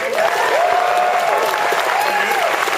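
Steady applause from an audience at a live show at PAX East 2011, dense clapping throughout, with some voices and cheers mixed in.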